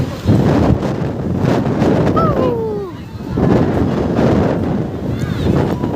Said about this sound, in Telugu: అసలు చాలా అంటే చాలా ఘోరమైన గాలి, అలల సౌండ్ అయితే చెవులు పోతున్నాయి